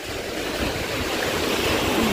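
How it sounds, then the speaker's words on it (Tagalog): Strong typhoon waves crash and churn with a loud, continuous roar of surf and rushing water close by, steady without a break. "lakas ng alon, oh."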